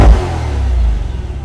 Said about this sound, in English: especially when you rev it